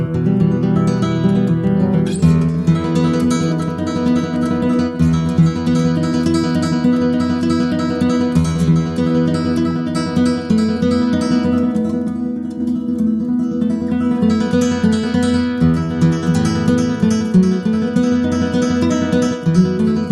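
Steady classical guitar playing with rich plucked notes and chords, continuous and fairly loud, no voices.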